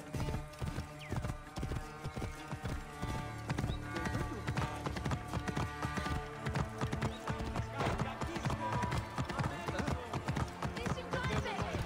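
Horse hooves clip-clopping steadily in the Assassin's Creed Origins video game, a brisk continuous rhythm of close, clear hoofbeats with occasional whinnies and voices talking in the background.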